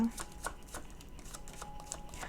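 Tarot cards are shuffled by hand at close range, a quiet run of soft riffling and tapping bursts repeating through the moment, with no voice over it.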